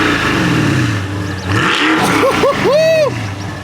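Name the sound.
muscle car engine revving with active exhaust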